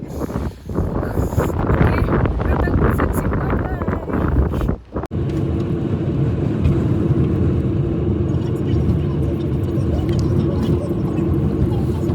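Strong wind in snowy mountains buffets the microphone with a loud, roaring rush that briefly drops out, then resumes as a steady gusty blast.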